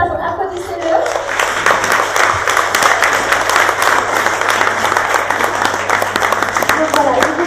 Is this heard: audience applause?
yes